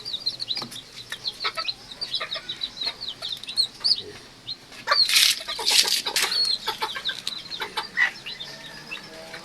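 Serama bantam chicks peep in rapid high chirps while chickens cluck nearby, a busy, continuous chorus with occasional louder squawks.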